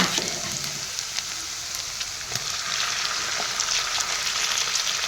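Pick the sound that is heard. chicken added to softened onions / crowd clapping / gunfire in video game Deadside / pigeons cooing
chicken added to softened onions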